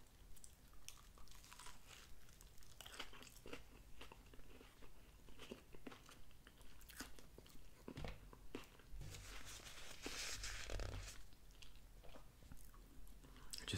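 Close, quiet chewing and crunchy bites of a Jimmy John's Little John sub sandwich with provolone, with soft wrapper crinkles and a louder crunch near the end.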